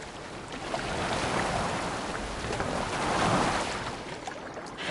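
Boat sailing over open water in Assassin's Creed Valhalla, with a steady broadband wash of waves and wind rising and falling throughout, fairly loud and without speech.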